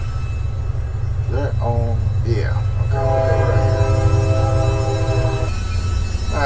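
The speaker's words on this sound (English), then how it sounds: "We had a train coming through" A train horn blares in short blasts and then one long sustained blast over the deep rumble of the train rolling past in a Farming Simulator 19 game. It is loud and close, and a voice speaks briefly before the horn.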